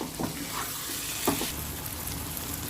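Brinjal pieces are stirred into a sizzling prawn curry in a pan, giving a loud, continuous frying hiss with a few soft scraping stirs near the start.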